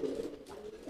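Pigeons cooing at close range, with soft, low, throaty calls in short repeated phrases and no talking.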